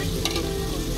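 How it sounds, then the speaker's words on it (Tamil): Garlic and green chillies sauté in a hot pan with a dense, steady sizzle and faint scraping of stirring, close and continuous, with no talk. "முதல்ல உள்ளியை போடுறோம், பச்சை மிளகாய் எல்லாம் சேர்த்து போடுறோம். நல்லா வதக்கி விட்டுக்கலாம்."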